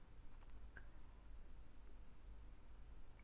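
A computer mouse gives one sharp, close click early on, followed by a fainter click or two over a low steady hum in a quiet room.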